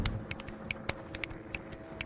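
Computer keyboard typing while gaming, a run of quick, light, irregular key clicks up close, alone without voices.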